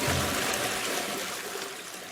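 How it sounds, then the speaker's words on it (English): A toilet flushes after being stuffed with many items, giving a steady rushing and trickling of water that stays fairly loud and even for about two seconds with no voices. "Now let's flush the toilet."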